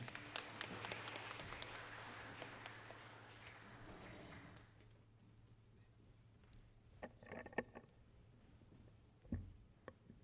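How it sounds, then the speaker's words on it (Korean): A church congregation at an evening revival service bursts into loud, dense applause to welcome the pastor, then the clapping fades out abruptly, leaving a few scattered faint claps and a quiet room. "목사님 나오실 때 다시 한번 말씀 잘 듣겠습니다라고 박수로 맞이하도록 하겠습니다."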